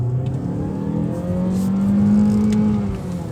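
A Mazda 3 hatch with a 2-litre mild hybrid engine revs loudly from inside the car, its drone rising in pitch, then dipping and climbing again through a smooth gear change.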